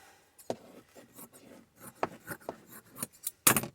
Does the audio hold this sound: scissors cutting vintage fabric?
yes